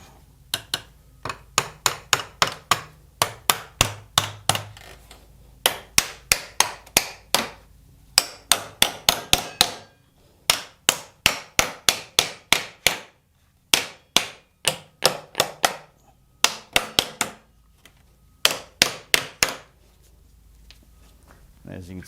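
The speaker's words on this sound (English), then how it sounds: "You'll probably have to hammer these things down." Repeated hammer blows pound down metal tabs on a DIY compost bin, coming in quick bursts of several sharp, close strikes separated by brief pauses.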